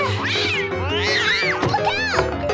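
Cartoon cats meow and yowl loudly in quick succession, several bright, wavering cries overlapping near at hand with a little background activity.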